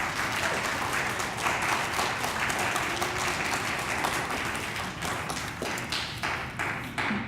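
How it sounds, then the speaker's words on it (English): An audience at a Phi Theta Kappa honor society induction ceremony claps steadily as a crowd throughout, heard from a moderate distance and easing slightly toward the end. "Let's give them another round of applause."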